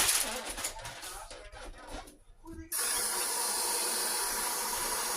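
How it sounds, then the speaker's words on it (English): Broccoli steaming in a pot in a homestead kitchen: soft clattering and rustling give way abruptly to a loud, steady, even hiss of steam that continues to the end. "And when I steam the broccoli, it's just enough so that it's cooked."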